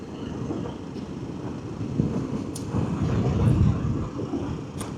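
A KTM 1390 Super Adventure S motorcycle rides along in fourth gear after a foot shift, giving a steady low engine and wind rumble that swells slightly midway.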